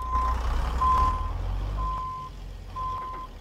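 Steady electronic reversing beeps from a 90s-era Volvo/GM truck backing up in American Truck Simulator, four evenly spaced tones over a low diesel idle rumble.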